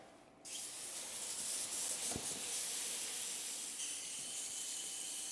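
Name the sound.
garden hose rinsing soap off car wheels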